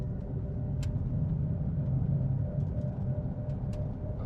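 A Solectria Force electric car accelerating at full throttle on a bigger road, giving a continuous rumbling drive and road noise with a few faint ticks, steady and fairly loud throughout.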